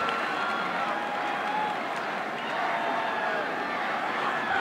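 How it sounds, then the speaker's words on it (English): A college football crowd at Utah State, hosting Air Force, roars in a sustained, loud stadium cheer with murmuring voices mixed into the din. "Got the crowd fired back up."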